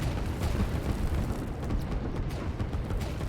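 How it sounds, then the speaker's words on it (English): In the Line War video game, a missile launch makes a dense, rumbling explosive roar with crackling bursts, loud and sustained throughout. "The missile firing off, shooting fireworks"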